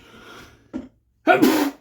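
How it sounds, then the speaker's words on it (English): A single sharp sneeze bursts out close by after a quiet stretch with a brief breathy intake, loud and explosive, ending in a hissy exhale. "Sneeze."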